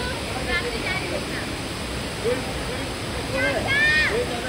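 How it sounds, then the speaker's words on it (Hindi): Steady broadband rush of a waterfall near Gangtok, Sikkim, filling the whole clip at a constant level, with faint chirping tones and a few brief vocal sounds riding over the roar. "ये रहा वाटरफॉल, ओ यहाँ काफी टाइम बाद वाटरफॉल देखने को मिला"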